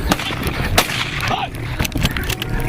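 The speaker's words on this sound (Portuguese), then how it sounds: "os homens continuam a disparar tiros de advertência em direção ao animal" Men firing warning shots at a lion: a few sharp gunshot cracks, close and loud over a noisy, rushed outdoor background.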